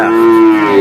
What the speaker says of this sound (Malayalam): ഇതൊക്കെ എരുമക്കന്നാളാ